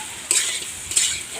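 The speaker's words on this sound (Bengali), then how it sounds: "আমি কিন্তু আলুগুলো এখন দিয়ে দেবো।" Potatoes going into a chicken curry cooked with little oil, giving two short bursts of bright sizzling with stirring scrapes, close and brief, no voices.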